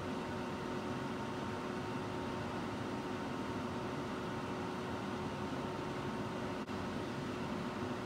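A microwave oven runs at 1,000 watts with nail polish drying inside, giving a steady, even hum and whir that holds constant throughout, with a brief faint click near the end.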